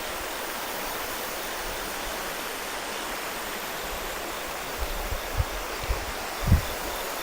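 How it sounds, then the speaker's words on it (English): A small creek beside the ruins of an old stone furnace foundation flows steadily as a constant broadband rush, near and even throughout, with a few faint low knocks and bumps toward the end. "Nice little creek next to it."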